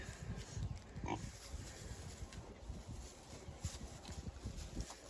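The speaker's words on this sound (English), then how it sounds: "Pigs are still doing great, slowly gaining weight." Pigs being raised on a farm, a boar among them, giving low grunts and snuffles in a loose irregular rhythm, with steady wind noise over the microphone and no talk.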